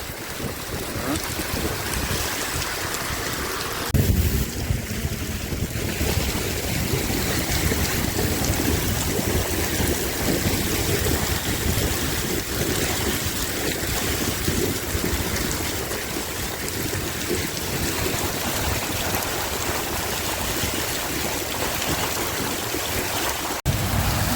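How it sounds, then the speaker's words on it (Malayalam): Heavy rain pours in Dubai's Al Karama during a cold thunderstorm, a loud, dense, unbroken roar mixed with gusty wind buffeting the microphone for the whole stretch. "ഒരു രക്ഷയില്ലാത്ത പെയ്തുകൊണ്ടിരിക്കണം മഴ അടിപൊളി മഴ"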